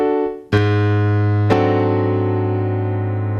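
Gospel piano voicing a flat-five triad over a tritone: after a brief quiet moment a rich chord is struck, then restruck about a second later and left ringing and slowly fading, with no voices.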